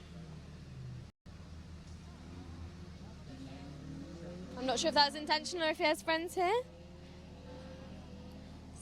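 Rally car 60 revs hard at the Jersey Rally, a burst of sharp, rising engine blips in quick succession from a moderate distance while a commentator talks throughout.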